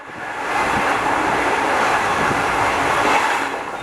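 A train from Sealdah to Bolpur rolls steadily along the rails, a loud, constant rumble with faint rhythmic clatter from the wheels, heard from on board.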